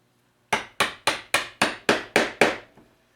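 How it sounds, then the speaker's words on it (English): Mallet striking a chisel driven down into pine wood while chopping a joint; eight sharp, evenly spaced knocks, close and clear, each ringing briefly before the next, with a fainter final tap. "I'll set the chisel in the scribe line and go down, hold the chisel plumb,"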